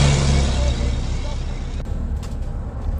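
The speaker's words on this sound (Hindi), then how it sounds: "एक पुराना भारी ट्रक घर घर की आवाज करते हुए आगे बढ़ते चले जा रहा है।" An old, heavy truck engine rumbles in the foggy December cold, loud and low at first, then settling into a steady, fainter drone.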